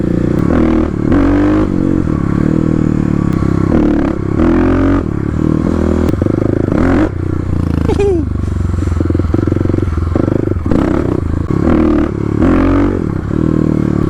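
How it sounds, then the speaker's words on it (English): A Kawasaki KLX351 dirt bike engine during wheelie practice, revving and dropping as the front wheel lifts and sets down, loud and close with clattering and scraping, under a person talking throughout. "we're getting the front wheel up, setting the bike down"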